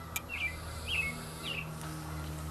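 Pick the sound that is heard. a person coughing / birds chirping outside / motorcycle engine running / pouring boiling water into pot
birds chirping outside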